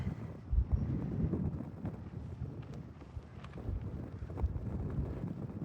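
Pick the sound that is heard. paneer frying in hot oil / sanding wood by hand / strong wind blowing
strong wind blowing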